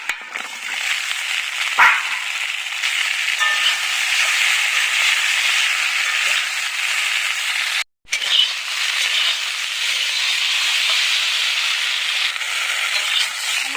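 Okra frying in oil in a wok after being coated with salt and turmeric, giving a loud, steady, close hiss of sizzling that runs the whole time, broken only by a brief gap.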